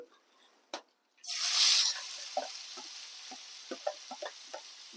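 Sliced onions drop into hot oil for a chilli, coconut and cashew curry, setting off a sudden loud sizzle that settles into a steady frying hiss, followed by light clinks and taps of the stirring spoon.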